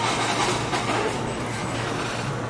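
Heritage museum train rolling on its rails during a ride in the Tennessee valley: a steady, loud broadband rumble and rattle of the cars, continuous and close, with no clear clicks.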